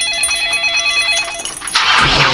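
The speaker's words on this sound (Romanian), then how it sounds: "Dacă sună telefonul, e clar." A loud electronic telephone bell rings in steady repeated bursts, then gives way to a burst of bright noise near the end.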